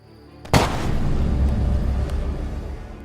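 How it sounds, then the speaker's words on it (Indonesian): A single sharp pistol gunshot cracks out in the African desert, followed by a long, rumbling echo that slowly fades. "mereka tiba-tiba dikejutkan dengan suara tembakan yang berasal dari pistolnya Mac."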